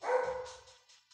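A dog gives a single short bark, brief and somewhat muffled, fading quickly into quiet.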